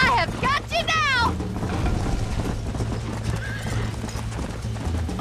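Horses gallop in Red Dead Redemption on PS3, rapid hoofbeats drumming steadily, with a sharp neigh near the start and game music underneath.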